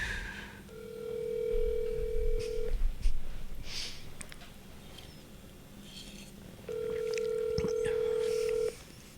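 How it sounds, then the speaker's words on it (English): A telephone call goes out from a talk show: a stretch of steady ringback tone, a pause, then another long tone, over faint background noise and light handling sounds, with no speech. "You ain't gonna answer the phone."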